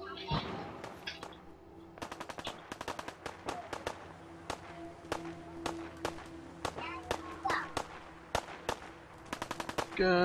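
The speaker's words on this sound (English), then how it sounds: "Gunshots." Gunfire in the video game Fallout 4: sharp, loud cracks in irregular bursts and rapid strings across the whole stretch, some shots single and some in quick volleys, over a low steady game ambience.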